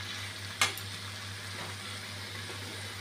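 Fried potato and ridge gourd go into a pan, giving a quiet, steady sizzle with one sharp clink near the start.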